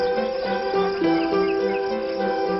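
Insects chirp steadily in a dense, continuous chorus of high, pulsing trills with a few brighter tonal calls layered over it, close and moderately loud.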